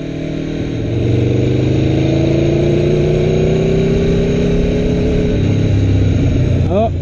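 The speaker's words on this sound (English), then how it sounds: "we're just gonna take a ride here and listen to the sound" A 2016 Aprilia Tuono V4 1100 RR on its factory exhaust pulls away and rides on, its loud engine note climbing steadily through the gears with rising pitch, close and dominant throughout.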